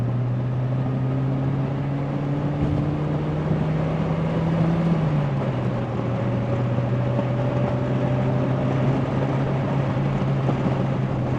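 A Saab 900 accelerates hard in third gear on a freeway, its engine drone rising steadily from inside the cabin, then dipping briefly mid-pull before climbing again, loud and continuous with road noise underneath.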